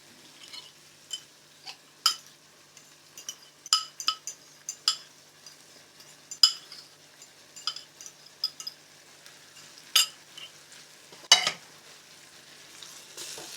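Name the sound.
stirring tomatoes and fava beans frying in a pan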